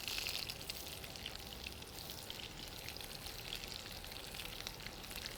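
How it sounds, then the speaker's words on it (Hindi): Fresh eggplant slices frying in hot oil in a pan, giving a steady, soft, continuous sizzle and crackle with no breaks, heard close up and without talk. "और अब ये जो नए स्लाइसेस हमने काटे थे इनको हम फ्राई कर लेते हैं।"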